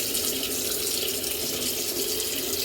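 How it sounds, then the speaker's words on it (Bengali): Water running and splashing steadily from a tap as a face is washed, a close continuous rushing hiss with no pauses. "জল দিয়ে ভালো করে মুখটা ধুয়ে নিলাম"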